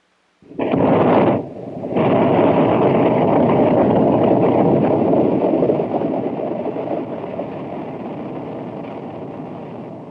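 A Saturn SA-T3 booster roars through a static test firing, a sudden loud broadband blast that stutters briefly, then settles into a steady sustained rumble, slowly fading over about ten seconds.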